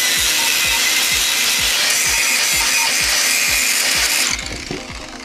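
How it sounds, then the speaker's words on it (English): An angle grinder works metal off a rear differential casing, giving a steady, harsh high-pitched grinding with rhythmic low knocks beneath, then cuts out near the end and winds down. "So a little bit more grinding on there, and then we're somewhere near."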